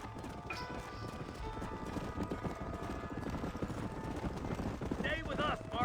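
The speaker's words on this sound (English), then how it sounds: "Quero o meu cavalo. Este cavalo é meu agora, mano." Horse hooves galloping in Red Dead Redemption, a fast continuous clip-clop under game noise, with someone talking over the ride.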